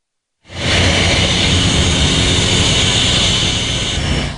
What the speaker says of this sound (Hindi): इसीलिए हवाई जहाज से सेना की मदद से ज़रूरी सामान पहुंचाया जा रहा है।